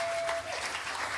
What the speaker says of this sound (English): So clap it up for yourselves, guys.